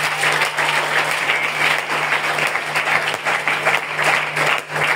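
A church congregation at a night prayer vigil claps and cheers in sustained, dense applause that runs loud and steady throughout, with a faint hum underneath.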